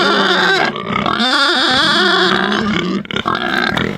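Pigs in a farm pen fenced with sheep netting and hot wires, grunting and squealing loudly and close by, with continuous overlapping vocal noises that rise and fall throughout.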